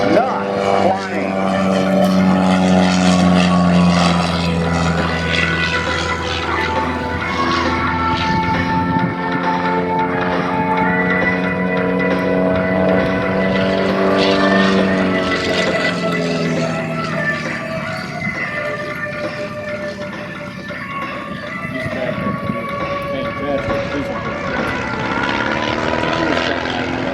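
A propeller aerobatic plane at the Houston Air Show 2014 drones steadily through a loop and falling stall, its engine tone loud and continuous while a commentator talks over it.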